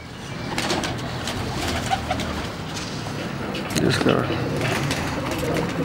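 Soft pigeon coos murmur in the background beneath steady talking, with a brief rustle of wings or handling near the middle.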